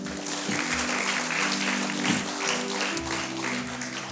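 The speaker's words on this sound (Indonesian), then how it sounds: "Mari kita beri tepuk tangan yang meriah bagi Tuhan" A church congregation claps together during a Sunday service, a steady wash of applause lasting several seconds at an even level with no one speaking over it.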